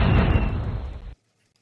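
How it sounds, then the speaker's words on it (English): Fireworks display bursting as a drone flies into it: a loud, dense blast that roars for about a second then cuts off abruptly into silence. "Flew his drone into fireworks display."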